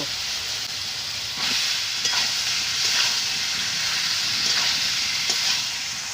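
Boiled potatoes and young jackfruit go into cooked-down masala in a pan, a continuous loud sizzle with intermittent stirring scrapes roughly every second.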